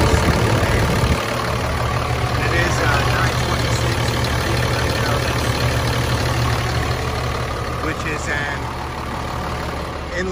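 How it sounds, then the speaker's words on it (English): The 7.2 liter Mercedes-Benz MBE 926 inline six diesel in a 2008 Thomas pusher bus runs at an even idle, a loud, close, continuous rumble that eases slightly toward the end. "The engines run beautifully."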